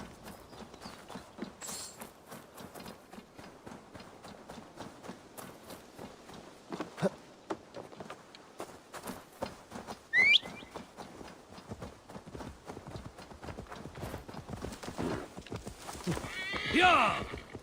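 Rhythmic hoofbeats of a galloping horse in the video game Assassin's Creed Valhalla run throughout, with a whinny near the end. A voice speaks over the hooves.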